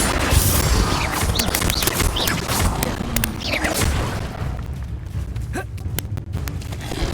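A Bombarda spell explosion in the video game Hogwarts Legacy, heard as a loud booming burst over dense, continuous game noise, with a few sharp cracks and some brief voice.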